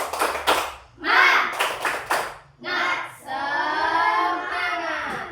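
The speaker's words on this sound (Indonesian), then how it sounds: "Yuk kita tepuk semangat dulu yuk." A class of children performs a rhythmic spirit clap, a few quick bursts of clapping mixed with loud chanting voices, followed by sustained shouting.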